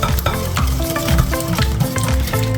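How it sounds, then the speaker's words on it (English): Biscuit brownie batter for bourbon biscuit brownies being mixed vigorously by hand in a bowl, a loud, busy, continuous squelching and stirring with rhythmic strokes, no talking. "So you just want to mix until it's a nicely yellowy, whitey colour."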